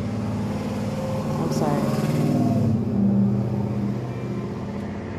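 Loud pickup trucks roar past outdoors in the American South, a sustained throaty engine rumble swelling and fading over several seconds while someone talks over it.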